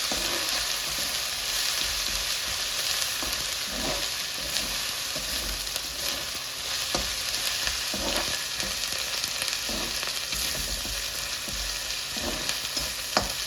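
Ingredients for methi chicken frying in a pan with ginger-garlic paste, a constant hiss of sizzling oil under scattered scraping stirs, close and steady, no voices.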